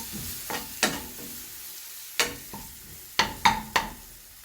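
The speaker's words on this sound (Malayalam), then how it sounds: "അതൊന്ന് പച്ചമണം പോകുന്ന വരെ നന്നായി ഇളക്കി കൊടുക്കുക" A spoon scrapes through garlic paste in a frying pan for shrimp gravy, making about seven sharp, irregular strokes and clinks close by over a faint sizzle, with short quiet gaps between them.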